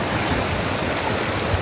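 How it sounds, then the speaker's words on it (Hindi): Mandakini river flowing near its glacial source at Chorabari Tal above Kedarnath, a steady broadband rushing of water with wind noise, continuous and fairly loud without pause. "तो आप देख सकते हैं, ये है मंदाकिनी नदी"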